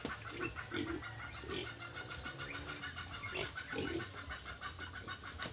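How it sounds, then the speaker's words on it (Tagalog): Pigs eating sweet potato leaves on a farm, with grunts and snuffling chomps in uneven bursts, close up over a faint outdoor hum with occasional birds. "Tignan nyo po ka-farmers kung gaano po katakaw ng ating baboy ng talbos ng kamote"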